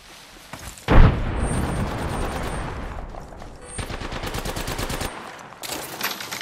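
Loud, rapid gunfire from the video game Apex Legends, a sharp opening blast followed by dense rattling bursts of automatic fire that continue in waves through the whole stretch.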